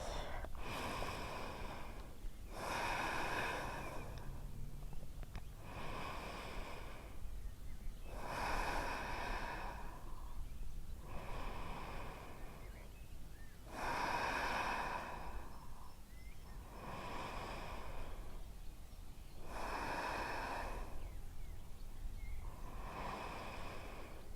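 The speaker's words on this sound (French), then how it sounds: "On essaie de calmer un petit peu sa respiration ici." Slow, audible breaths during a yoga downward dog pose repeat in long, even inhale and exhale cycles about every three seconds, close and breathy against a quiet room.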